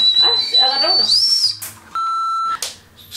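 A Japanese whistle candy is blown, giving high, clear whistling tones that rise and hold, including a steady sustained pitch, close and loud, with people talking around it.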